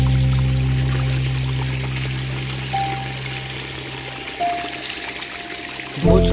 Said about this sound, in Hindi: ये चट्टानों के नीचे से कुदरती तौर पर निकल रहा है।